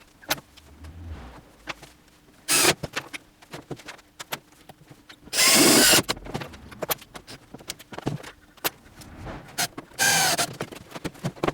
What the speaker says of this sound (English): I'm using self-drilling screws to fix the slide in place